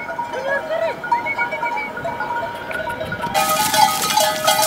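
Sheep and goats graze on an Andorran mountain pasture, with bleats and the clank of their bells rising over a steady outdoor background. A voice speaks through part of it.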